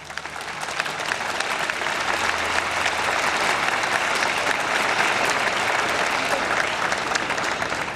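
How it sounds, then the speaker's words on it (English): A large crowd at Emory University School of Law's 2010 commencement claps for the faculty, a loud and sustained wash of applause that holds steady for the whole stretch without any speech. "So please give them a round of applause."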